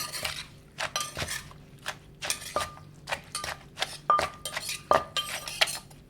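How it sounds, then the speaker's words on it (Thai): Som tam papaya salad with pla ra fish sauce is pounded and tossed in a mortar, giving irregular wooden knocks and light clinks at a moderate, uneven pace, close by with no talking. "ก็ตำคลุกคลุกเคล้าทุกอย่างให้เข้ากันนะคะ"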